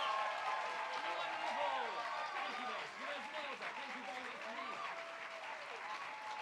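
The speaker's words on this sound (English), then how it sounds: "Give them a huge round of applause." An audience at a community Big Sing event in Hammersmith gives loud, sustained applause. Whoops and voices rise through the steady clapping for the whole stretch.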